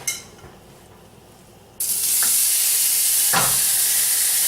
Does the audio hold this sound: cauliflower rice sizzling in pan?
yes